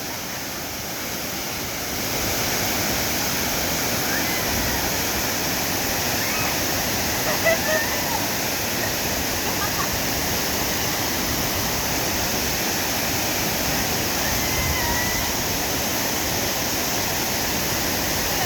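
Las Brisas waterfalls in Oaxaca, Mexico, roar as a steady, loud wash of falling water that swells in after a quieter opening and stays constant.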